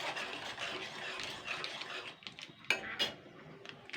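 A spoon stirs salt, sugar and whole cloves, cardamom and cinnamon in a metal pot, giving soft scraping and a few crisp clinks against the sides, quiet and close.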